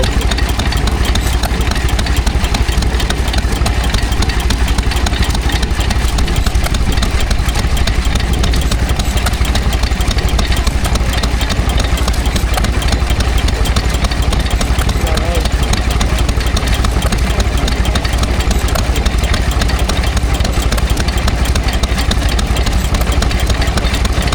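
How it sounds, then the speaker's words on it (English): A Lister single ram pumping set engine running at a rural country show, a loud continuous mechanical chug close by with no breaks, and a voice talking over it. "here's a Lister pumping set, single ram pumping set"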